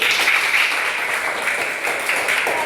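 A classroom group claps steadily, a dense continuous patter of applause filling the room from start to finish.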